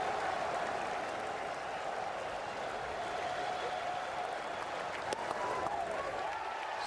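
Sellout baseball crowd of nearly 39,000 on its feet applauding, a dense, continuous wash of clapping and cheering that stays steady and loud throughout, with a voice faintly underneath.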